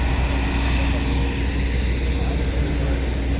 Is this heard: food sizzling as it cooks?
no